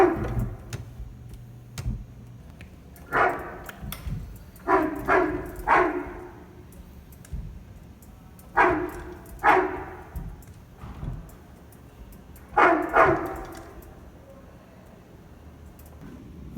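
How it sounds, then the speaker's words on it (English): A recorded dog barks from a push-button museum exhibit at the Lewis & Clark Interpretive Center in Sioux City, Iowa: several short clusters of sharp, moderately loud barks repeat at intervals over a quiet indoor background, with no talking. "They say if I push this button, Seaman will bark and wag his tail."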